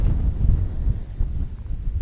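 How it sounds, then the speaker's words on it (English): Strong wind buffets the microphone on an open hilltop above a valley, a steady loud low roar with gusty surges and no voices. "We're getting a lot of wind that way."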